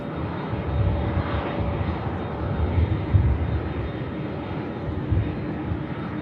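Aircraft engine roar at Manchester Airport, a steady broadband rumble that swells and holds throughout at close to moderate distance, with no voices over it.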